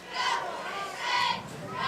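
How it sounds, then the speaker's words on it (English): Westfield School football crowd at a high school game against Briarwood Academy, a swelling wash of cheering and shouting voices rising and falling over about two seconds. "this Westfield crowd can really get into a game if they feel like they're needed"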